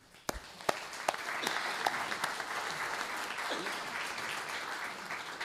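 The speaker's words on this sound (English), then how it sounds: "I would ask for everybody to give these unseen people a round of applause, please" An audience at a national executive committee meeting applauds, opening with a few distinct sharp claps that quickly swell into sustained, even clapping from a large room, heard at moderate distance.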